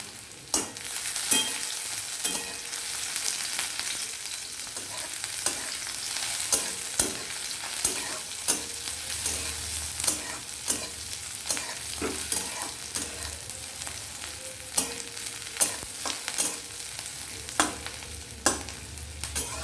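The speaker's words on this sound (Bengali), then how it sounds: "আমি এখন যে রান্নাটি করব তাতে পেঁয়াজ দিয়ে দিলাম" Chopped onions fry in a hot pan with a continuous sizzle, broken by sharp scraping clicks of a spoon stirring against the pan at irregular intervals, close and without speech.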